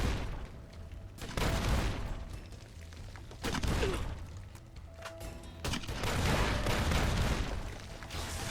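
Scripted enemy gunfire in the Fallout: New Vegas Lonesome Road video game, coming in several loud bursts of rapid shots separated by quieter stretches, with booming impacts mixed in.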